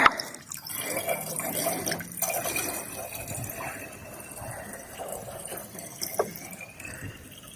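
Water scooped by hand from a fish pan beside a rice paddy, giving a steady, close wet sloshing and trickling with small drips over the whole stretch.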